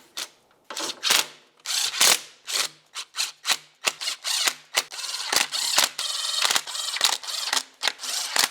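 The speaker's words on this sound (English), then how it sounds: "After I've made my way around, I'm going to torque them to 12 foot-pounds." Hand ratchet snugging the mounting bolts on the transmission oil pan of a 1998-2002 Lincoln Navigator, a rapid series of close, sharp clicking bursts with brief pauses between strokes, no talk.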